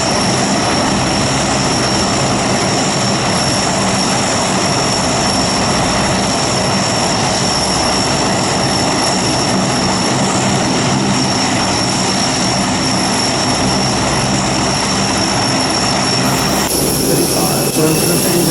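Inside the cockpit of a Safair Lockheed Hercules L100, the turboprop engines drone steadily at a loud, constant level throughout, with a faint crew voice now and then beneath the noise.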